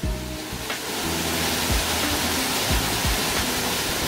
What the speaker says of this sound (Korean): 드디어 희방사야 희방폭포에 도착을 하였습니다.